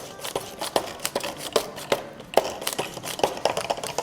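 Bread pudding ingredients being stirred together in a bowl, with a quick, irregular run of light taps and scrapes from the utensil against the sides, close and fairly crisp, with no talking.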